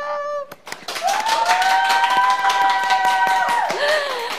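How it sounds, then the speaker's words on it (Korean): A few people clap on request during an album unboxing, scattered claps spread under a sustained, steady tone that dips near the end. "강제 박수"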